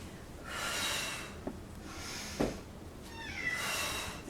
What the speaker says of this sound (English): There comes a kitty.